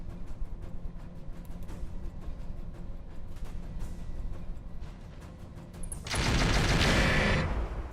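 Weapons fire aimed at a Polyphemus mech in Roguetech, a BattleTech game: a steady rattle of repeated shots, then a loud, dense blast of fire near the end, with no talking.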